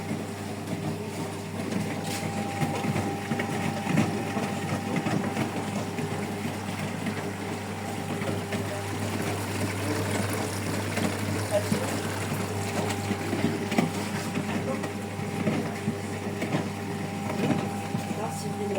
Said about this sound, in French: Enfin, essorage.